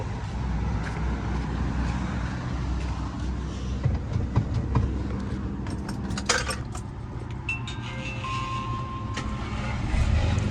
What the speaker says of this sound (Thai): สตาร์ทติดง่ายนะครับชึ่งเดียวติด